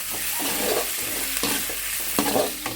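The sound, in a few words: tempering spices, onion and tomato frying in oil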